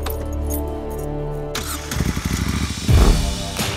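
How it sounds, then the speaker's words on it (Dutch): A motorcycle engine cranks and fires up at the TT Assen 2023, sputtering into a rough idle, then revs sharply; loud and close. "Motoren worden gestart en jullie gaan op pad"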